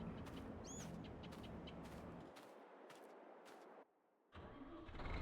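A tractor engine starts in Farming Simulator, a loud sustained mechanical rumble with rhythmic pulses that drops out briefly before resuming, while a bird chirps once early on.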